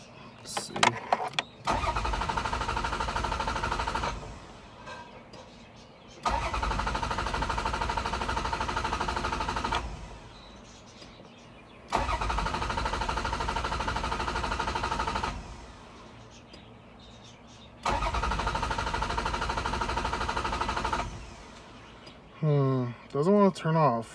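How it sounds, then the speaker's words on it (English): A Toyota Celica GT-Four engine cranks with the coil packs removed, in three long, even bursts with short silent gaps between them, followed by a voice speaking briefly at the end. "I'm going to crank the engine without the coil packs"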